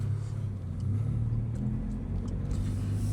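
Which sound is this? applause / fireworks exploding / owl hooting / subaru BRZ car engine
subaru BRZ car engine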